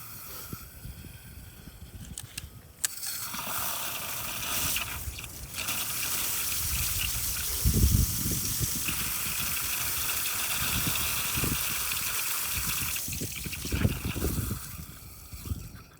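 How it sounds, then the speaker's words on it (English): Water runs from a repaired outside faucet pipe, a steady broadband hiss and splash that continues at moderate level with some clattering handling noises. "let's turn on the water and let's test it and see how it looks."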